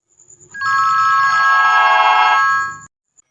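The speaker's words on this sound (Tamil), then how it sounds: "என்னது, மறுபடியும் ஃபோன் மணி அடிக்குது?" A mobile phone ringing with a single sustained electronic ring tone, clear and close, lasting about two seconds before cutting off, with faint background noise around it.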